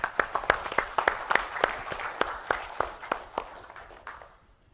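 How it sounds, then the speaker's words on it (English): Applause from a tech conference audience at TechEd North America 2013, distinct claps sounding through a thin, scattered round that tapers off toward the end. "So give them applause for me."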